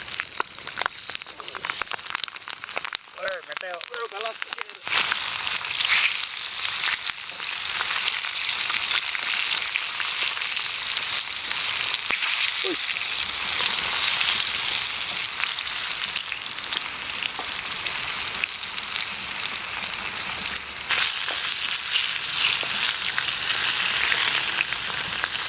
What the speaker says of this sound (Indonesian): Sekarang kita lanjut goreng untuk bahan sambalnya.